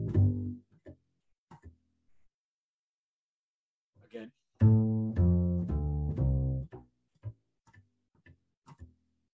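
Bass line outlining a chord, starting on its fifth and then descending: a short run of low, sustained, stepped notes in the middle, framed by sparse soft plucks and clicks with quiet gaps between.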